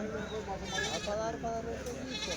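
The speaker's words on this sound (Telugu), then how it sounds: "33 మేకలు అయితే ఉన్నాయి" Goats bleat in a busy weekly livestock market at Kadiri, wavering cries rising over a crowd of people talking nearby, continuous and fairly close.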